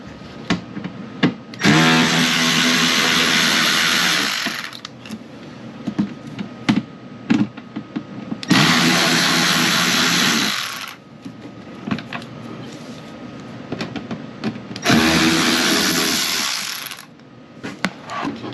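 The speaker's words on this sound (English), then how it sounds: "I use a little screw adapter on the end of my ratchet here." A power ratchet fitted with a small screw adapter backs screws out of the fender flare trim of a 2023 Honda Passport TrailSport, three loud sustained whirring bursts separated by pauses with light clicks and handling noise.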